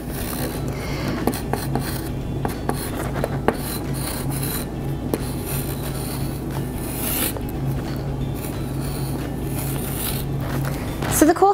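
Chalk scratches across a chalkboard in repeated short, rasping strokes with small taps, steady and close for the whole stretch, while a voice is faintly present in the background.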